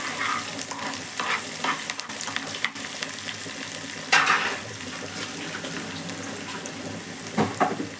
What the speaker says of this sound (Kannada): ಇವಾಗ ಇದು ಮಿಕ್ಸ್ ಆಗಲಿ. ಒಂದು ಸ್ವಲ್ಪ ಫ್ರೈ ಆಗಲಿ ಚೆನ್ನಾಗಿ